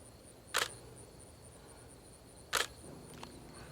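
A camera fitted with an 85mm f/1.8 lens fires its shutter twice, two sharp, distinct clicks about two seconds apart in a quiet room, followed by a fainter handling tick.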